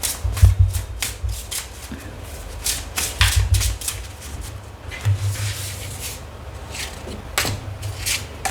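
Affirmation cards are shuffled by hand in repeated riffling bursts close up, with soft papery flutters and light taps between them. Quiet talk is heard briefly in the background.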